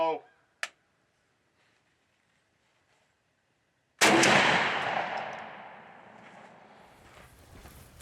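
A single loud shotgun blast fires at a patterning target outdoors after a brief voice and near silence, followed by a long decaying echo that fades over several seconds.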